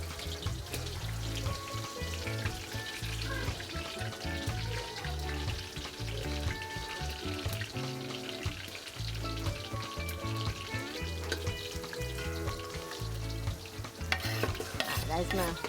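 Garlic frying in oil in a pan for boil-and-fry yam, a dense steady crackle and sizzle throughout with rhythmic stirring and no talking.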